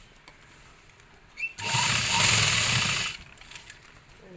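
A sewing machine runs a side seam on a small child's pleated petticoat, giving one steady, close mechanical whirring burst of about a second and a half between quieter pauses.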